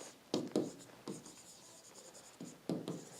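A pen writes on paper during a Class 10 maths lesson, quick scratchy strokes in short bursts with brief pauses between, close and quiet, with no voice over them.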